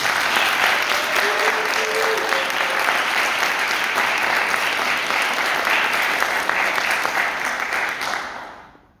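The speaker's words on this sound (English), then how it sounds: "So if we can all give them a round of applause." Sustained audience applause at a theatre awards ceremony, dense and steady clapping from a large crowd, fading out at the end.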